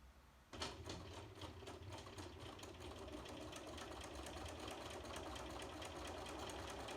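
A sewing machine stitches steadily across the corners of a quilt block, its fast even mechanical chatter starting abruptly after a brief pause and running close and loud for the rest of the stretch without talk.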